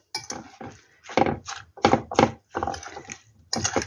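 A spoon stirs a mixture in a bowl for a cauliflower dish, giving a series of close, irregular clinks and scrapes against the bowl in short bursts with pauses between.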